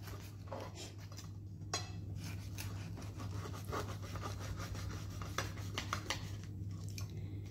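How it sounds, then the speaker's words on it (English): A knife saws through a loaf of homemade milk bread with repeated soft scraping, rasping strokes, close and fairly quiet over a steady low hum. "let me cut you another slice of my bread"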